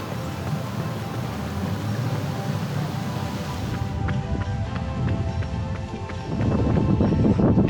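Wind buffeting the microphone during an outdoor run on a windy day: continuous low rumbling gusts with rhythmic footfall-like thumps, growing louder and rougher toward the end.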